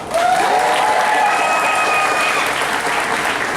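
An audience claps loudly and steadily for Kino the bird, with a few whistle-like chirps ringing over the applause, which holds for a few seconds.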